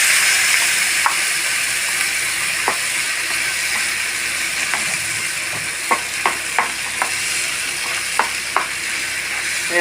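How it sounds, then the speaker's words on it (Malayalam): A paste of ginger, green chilli and garlic ground in a mixer sizzles loudly in a pan for an egg pepper roast, a continuous close hiss broken by occasional sharp clicks and taps of stirring. "ഇഞ്ചി പച്ചമുളക് വെളുത്തുള്ളി അത് മിക്സിയിൽ അടിച്ചു അത് ഞാൻ ഇതിൽ വീട്ടണം"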